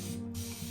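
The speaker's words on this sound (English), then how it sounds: "it's a mister with a really good fine mist" A fine mist sprayer spritzes water onto a watercolor painting in one short, close hiss.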